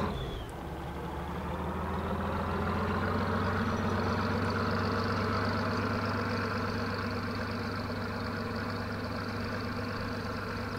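A steady, low tractor engine drone in a farming video game idles evenly throughout, deep and continuous with a constant hum and no voices.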